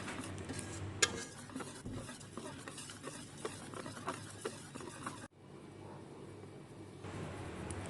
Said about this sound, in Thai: ก็ใช้ตะกร้อค่อยๆตะล่อมคนเอาค่ะ จะไม่ตีนะคะ